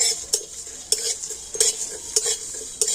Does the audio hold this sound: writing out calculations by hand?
no